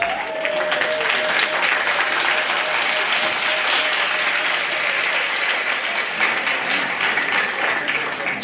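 A hall full of guests at an 80th birthday celebration breaks into loud, continuous applause, thick and even from start to finish with a faint tonal note near the beginning.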